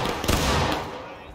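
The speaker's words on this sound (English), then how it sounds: "Right through the smoke, fire!" A rifle volley booms out in the Civil War video game War of Rights, a dense crackling burst of musket fire with sharp reports near the start and again shortly after, set against continuous battlefield noise.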